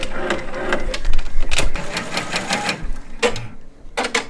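A multi-needle embroidery machine stitching a patriotic table topper, loud and close, with a rapid mechanical rattling chatter and uneven rhythmic clacks that briefly pause near the end.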